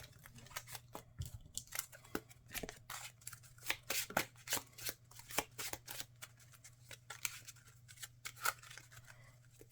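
Marvel Champions playing cards are shuffled back into a deck, a quiet series of quick papery riffles and taps in irregular bursts, close and without talking.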